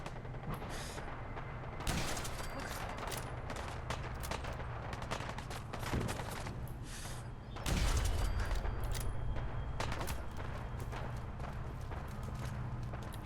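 Gunfire from a 10mm auto pistol in Fallout 4, fired in rapid, quiet cracking shots over steady background game noise, with a heavier burst partway through.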